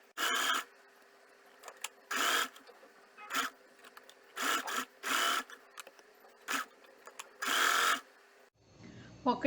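A sewing machine stitches a pocket with a frill onto an apron in short, loud, close whirring bursts separated by quiet pauses.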